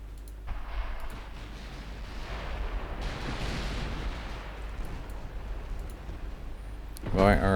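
Naval guns fire armour-piercing shells in a night battle in the warship game Ultimate Admiral Dreadnoughts, a sustained low rumbling roar of heavy gunfire and distant blasts, swelling into a louder burst near the end.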